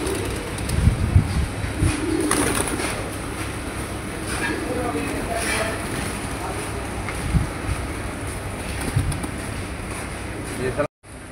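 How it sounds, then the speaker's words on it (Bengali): A large flock of pigeons, around a thousand birds, coos softly and continuously at a home loft while they are fed, with wing flutters, handling noise and a person talking nearby. "প্রায় 1000 পায়রা রয়েছে।"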